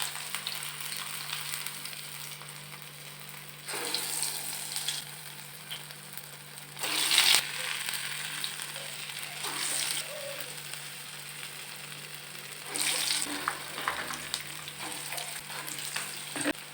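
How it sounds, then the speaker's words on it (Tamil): Medu vadai, lentil fritters, fry in hot oil with a continuous loud sizzle that swells in bursts each time batter drops into the pan, with no talking. "கையில் தண்ணி தடவிட்டு நடுவில் கிள்ளி போட்டு பண்ணிக்கலாம் வடை."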